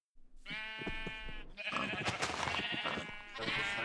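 Sheep in the video game Minecraft bleat in a steady, wavering cry that runs almost unbroken for several seconds, loud and close with no speech over it.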